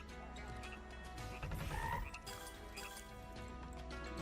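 A cartoonish frog croak sound effect from the Tai the Toad online casino slot game, repeating over steady game music with mechanical ratchet-like clicks, fairly quiet throughout.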